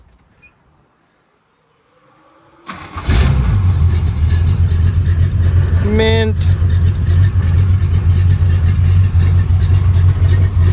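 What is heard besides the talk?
1986 Chevy square body truck engine starting and revving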